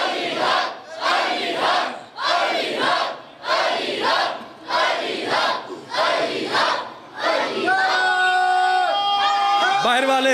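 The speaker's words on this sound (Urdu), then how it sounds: "علی والا ہاتھ چاہ کے بولے علی حق علی حق." A large majlis crowd at a Muharram gathering in Sheikhupura chants the slogan "Ali Haq" in loud rhythmic unison, about seven repeated surges, before the chant breaks off into a sustained tonal cry.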